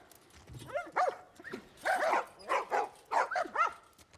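Dogs barking in The Last of Us Part 1: a rapid run of close, repeated barks and yips, with some whimpering between them.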